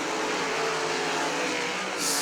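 Sprint race cars in a Great Lakes Super Sprints race at Millstream Speedway roar hard off a turn under power, a loud, continuous, dense engine scream that swells slightly at the end.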